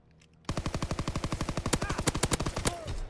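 Rapid automatic gunfire in the video game Call of Duty: WW2, a loud, close burst of about twenty evenly spaced shots that cuts in sharply after a brief quiet start and ends abruptly.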